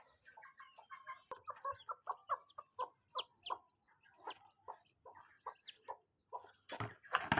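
A mother hen clucks repeatedly in a steady rhythm among her newly hatched chicks, the calls close and clear with faint peeping, ending in a louder burst of rustling.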